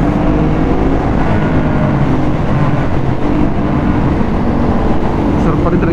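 A Ducati Hypermotard is ridden on the road, giving a continuous loud roar of engine and rushing wind with no break, and a muffled voice mixed into the noise.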